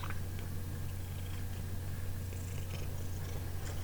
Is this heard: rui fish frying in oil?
no